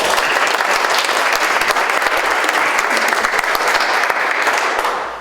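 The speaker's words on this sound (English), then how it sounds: "Let's quickly give them a big thank you and a round of applause." A candidate forum audience in Roslyn, Kittitas County, gives a steady, dense round of applause for the League of Women Voters hosts, sustained throughout before tapering off at the end.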